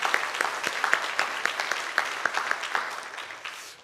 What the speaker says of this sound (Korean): 우리 다시 한번 박수로 우리 축복해 주시기 바랍니다.